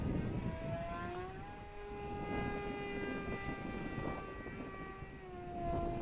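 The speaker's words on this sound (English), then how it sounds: "It sounds like that stock motor is developing some issues though" Electric motor of a Volantex Ranger G2 RC sport FPV glider whining in flight, a steady tone rising and falling in pitch over a muffled wind-like hiss, fairly faint.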